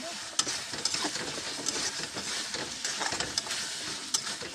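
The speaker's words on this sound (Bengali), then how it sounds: "এবার কষিয়ে নেব।" Prawns stir-fried in oil in a pan, with a steady sizzle and repeated scraping stirs of a spatula, close and continuous with small clicks.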